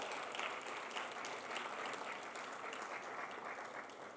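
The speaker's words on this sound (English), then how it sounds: "please use up all the energy you have to applaud" Expo audience applauding the panelists after the final panel discussion, a sustained wash of many hands clapping at moderate distance, fairly faint and even for the whole stretch.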